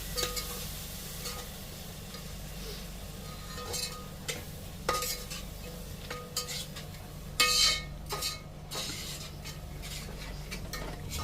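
Yogurt is stirred into sautéed onion, ginger and chili masala in a pan over low heat for paneer biryani, with a soft sizzle beneath irregular spoon scrapes and clinks against the pan.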